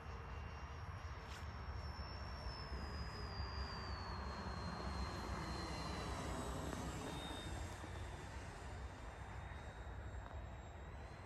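A 3D-printed 1/15-scale BAE146 RC airliner with electric ducted fans flies on its maiden flight, giving a continuous distant rushing roar with a thin high whine that slowly falls in pitch.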